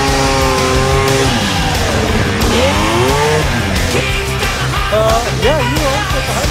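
A vintage snowmobile engine running and revving nearby, with rising and falling whines and steady droning harmonics. People talk briefly over it.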